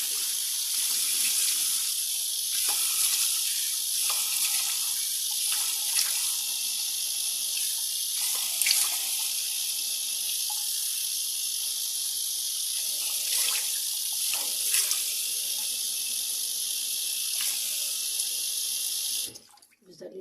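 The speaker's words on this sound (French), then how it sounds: "Je vais le rincer. L'eau tiède après l'eau froide." Tap water runs steadily into a sink as a face mask is rinsed off, a loud close hiss of flowing water lasting throughout with small splashes, cutting off abruptly at the end.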